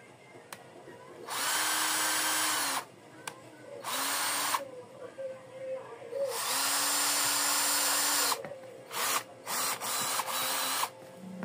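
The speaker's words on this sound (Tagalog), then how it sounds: "Testing na natin sa drill niya." A cordless 18V drill running on a repacked battery gives several loud whirring bursts of a few seconds each, revving up and winding down, with short pauses between them.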